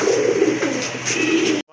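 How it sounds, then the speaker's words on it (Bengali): A large Indian Bombay pigeon coos close by in a single loud, throaty rolling call that runs for over a second and then stops abruptly. "অনেক বড় সাইজের এক জোড়া ইন্ডিয়ান বোম্বাই কবুতর"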